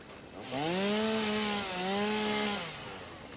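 Chainsaw from the video game Satisfactory, a single revving burst about two seconds long that rises, dips briefly and surges again before cutting off. It sounds close and loud, with no talking.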